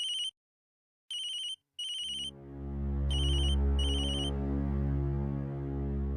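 Phone rings out in several short electronic bursts, then a low steady hum and music-like drone take over with no ringing.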